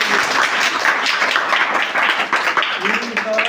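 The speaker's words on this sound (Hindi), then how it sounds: "जोरदार ताली" Loud, steady applause from a quiz audience rewarding a correct answer at a children's general-knowledge contest, a dense wash of clapping lasting the whole moment with voices mixed into it.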